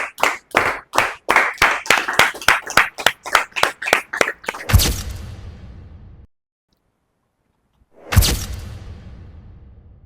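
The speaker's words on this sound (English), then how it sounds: "Let's invite them with a huge round of applause" An audience claps in a quick, even rhythm of about a dozen loud, close claps, then two louder bursts of applause split by a short silence, at a staged Shark Tank-style pitch event.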